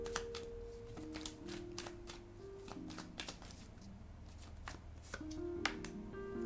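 Tarot cards are shuffled by hand in quick, crisp riffling bursts and soft slaps, repeated several times close up at low volume, with faint background hum and no talking.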